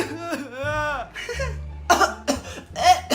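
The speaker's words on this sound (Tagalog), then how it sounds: "Anak, umubo ka ba?" A few sharp, harsh coughs break out near the end, following some strained vocal sounds, close to the microphone over a low steady hum.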